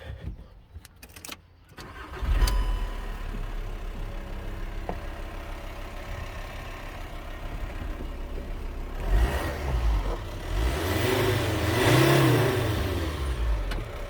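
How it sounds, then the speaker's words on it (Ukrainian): VW Transporter 2.5 diesel van engine, 174 hp, cranks briefly and catches, settles into a steady close idle, then is revved twice with rising and falling swells before dropping back toward idle. "Ось як зводиться двигун."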